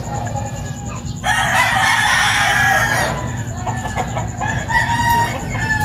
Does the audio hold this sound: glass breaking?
no